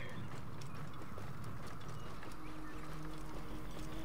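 Horse hooves in Assassin's Creed Origins, a fast run of clip-clopping steps with faint mechanical rattling over a constant rumbling bed.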